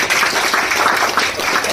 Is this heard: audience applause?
yes